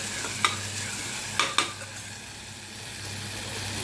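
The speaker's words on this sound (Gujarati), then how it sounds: "મરચું તેલમાં બરાબર પકડવા દેવાનું." Ground chili paste mixed with garlic, turmeric, and coriander-cumin fries in hot oil with a steady close sizzle, and a few sharp spoon scrapes and clinks come as it is stirred. No one speaks.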